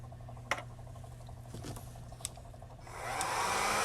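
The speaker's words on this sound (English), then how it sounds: "I'm going to hit it with the heat gun" A few soft taps and clicks give way to a heat gun that switches on partway through and blows a steady, close, hissing roar over plain acrylic flow paint on a tumbler.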